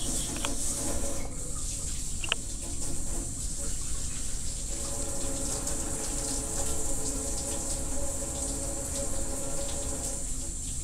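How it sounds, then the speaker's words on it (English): A tap runs steadily into a sink as hands are washed before a blood draw, giving a continuous close splashing hiss without any speech. "I'm going to wash my hands and get ready for the process."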